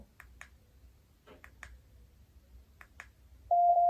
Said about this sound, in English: you heard that beep, that's Bluetooth